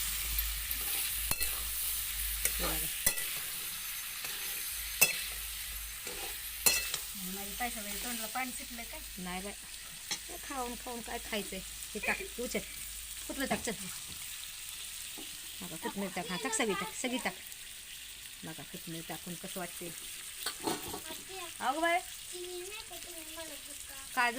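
Chicken fries in oil in a pan over a wood-fired stove, with a constant close sizzle and repeated scraping stirs. People talk over it throughout.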